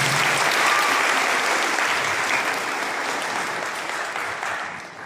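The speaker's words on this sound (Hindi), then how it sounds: "और एक बार हम लोग स्वागत के नाम पर ताली बजा रहे हैं।" An audience applauds in welcome at a gathering: steady, dense clapping from many people that holds loud for several seconds and fades only slightly at the end.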